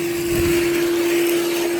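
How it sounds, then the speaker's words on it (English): A powerful Skyvac gutter vacuum motor runs loud and steady, with a strong, unwavering whine and a rushing airflow roar throughout, no voices present. "I'm not trying to sell it, but it's a bloody good vacuum."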